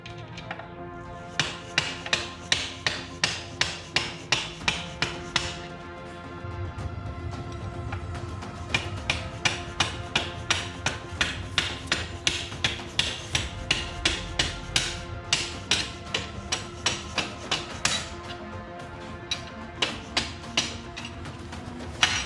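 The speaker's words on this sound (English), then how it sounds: "I chased this bolt out, holding in the swing arm with just a small piece of steel that I had" Rapid, evenly spaced metallic hammer blows drive a bolt out of a 2019 Honda Grom swing arm using a small piece of steel, loud and close, continuing in long regular runs with brief pauses.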